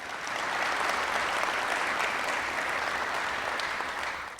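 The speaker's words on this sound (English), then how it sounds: "So give yourselves a round of applause." Audience applause fills a press conference room, a steady wash of many hands clapping close and loud for several seconds before tapering at the end, with no talk over it.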